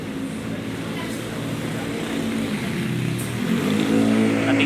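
Cars pass along a highway at night, a steady engine rumble and tire roar that swells gradually as a vehicle draws nearer, with no talk over it.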